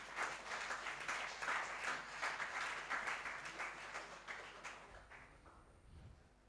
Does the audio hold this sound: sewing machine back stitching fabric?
no